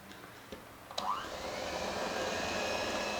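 Electric mixer beating cake batter with sifted cocoa and a pinch of salt, a steady whirring motor hum that starts after a few faint clicks and runs continuously, fairly quiet.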